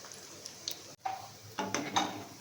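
A spoon stirs fasting-style dahi vadas frying in oil in a pan, giving quiet scraping clinks and soft metallic taps against the pan over a faint background sizzle, with a few louder stirs toward the end.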